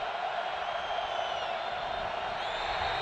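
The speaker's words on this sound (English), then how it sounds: "Crowd noise. Crowd's into it now." Football stadium crowd at a 2002 Texas vs Nebraska game, a steady, dense roar of many voices with faint whistles and whoops, continuous throughout and moderately loud.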